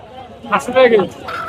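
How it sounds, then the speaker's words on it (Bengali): Native chickens at a live poultry market, a short close fowl call with a warbling, throaty cackle rising over background market murmur. "আজকে দেশি মুরগি আনছেন সব?"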